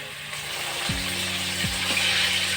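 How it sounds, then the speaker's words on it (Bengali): Fish frying in oil in a wok (kadai), giving a steady, fairly loud broadband sizzle with a low tonal hum running underneath and no talking. "আর এই কড়াইতে মাছ ভাজা চলছে"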